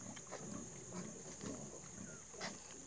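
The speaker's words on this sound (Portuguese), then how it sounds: "a porca de lá ao lado lá tá mamando os leitãozinhos" A sow nurses her newborn suckling piglets in a farm pen. The piglets give soft, low grunts and faint rhythmic suckling noises over a steady high-pitched background hum.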